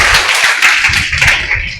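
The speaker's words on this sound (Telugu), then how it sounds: "అందరం చప్పట్లు కొడుతూ వారికి సమయాన్ని అందిద్దాం" An audience at a church temple dedication anniversary meeting claps to welcome a speaker, a loud, dense patter of hands close by that carries on steadily without talk over it.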